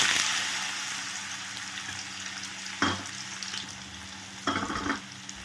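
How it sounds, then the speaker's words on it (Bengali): Half-boiled potatoes fry in hot oil for chilli potato, a steady soft sizzle with two brief louder bursts of crackle as pieces are stirred or added. "তো যেহেতু আমার পটাটোটা হাফ বয়েল করা আছে, তা আমি এখানে পটেটোটা বা আলু আগে দিয়ে দিচ্ছি।"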